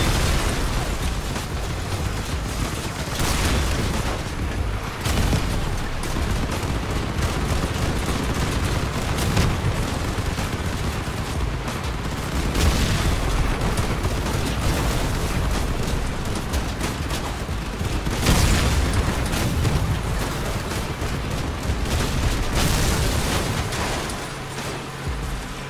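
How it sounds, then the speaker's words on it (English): Repeated booming explosions and popping blasts from the video game Crossout, with bursts rising above a constant rumbling barrage and no voices. "All the explosions."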